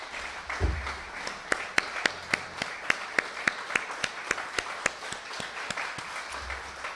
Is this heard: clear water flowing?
no